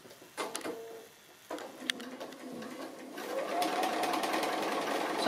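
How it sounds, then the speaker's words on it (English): A sewing machine running steady free-motion straight stitches along the edge of a fabric applique; a few short clicks and pauses come first, then continuous close, moderately loud whirring builds and holds to the end. "I'm just doing a straight stitch but free motion, just on the applique but close to the edge."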